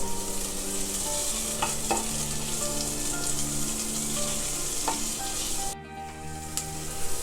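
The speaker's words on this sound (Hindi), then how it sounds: "इसमें डाल दिया मीडियम साइज डाइस किया हुआ प्याज। हम इसे गोल्डन ब्राउन होने तक भूनेंगे।" Medium-diced onion fries in a pan toward golden brown for a bottle gourd curry, producing a loud, continuous close sizzle with stirring, over a steady background hum.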